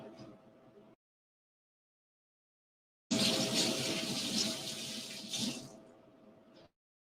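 Running tap water at a kitchen sink for washing comes in as a loud, steady rush after a silent gap, with softer room sound before and after.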